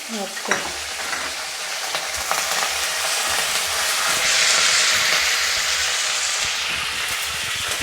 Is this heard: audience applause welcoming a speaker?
no